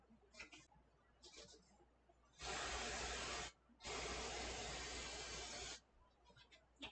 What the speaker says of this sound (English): I'm going to spray my loaf pan